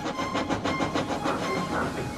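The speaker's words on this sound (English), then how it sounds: "Thomas puffed along the line to fetch the Christmas tree" Thomas the steam engine puffs along the line in the Trainz game, a steady, close chuffing with rhythmic clatter and hiss under a quiet voice.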